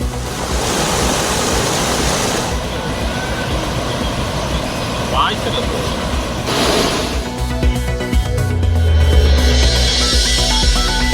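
Floodwater rushes loudly and steadily around a riverside Anjaneyar temple on the Pollachi–Valparai road, a constant broadband roar with a low engine-like hum rising near the end.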